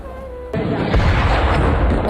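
A sudden heavy boom from an Israeli missile strike on residential buildings in southern Lebanon hits abruptly after a quiet moment, then rolls into a sustained loud, rumbling roar that fills the rest of the stretch.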